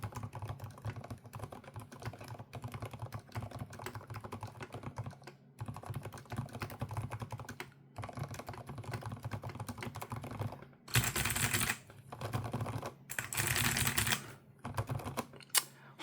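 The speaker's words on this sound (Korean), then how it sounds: "저소음 적축 키크론 거 써볼게요." Typing on a Keychron K8 Pro keyboard with silent red switches: a soft, rapid patter of muted keystrokes, dense and continuous with a few brief pauses and some louder bursts near the end.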